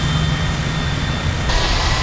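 A U-2 spy plane's jet engine in the video game ARMA 3, set in 1956 near a runway: a steady, loud, broadband roar with a constant whine, continuous throughout and with no speech.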